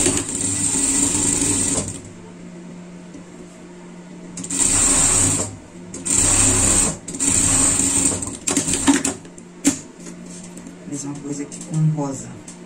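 Sewing machine stitching a rounded seam on fabric for a pet garment, running in several short bursts of steady whirring with pauses between, while someone talks over and between the runs.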